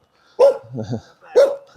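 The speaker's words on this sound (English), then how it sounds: "Hey, puppy dog." A dog barks twice at close range, two loud separate barks with a softer grumbling sound between them, heard outdoors on a morning walk.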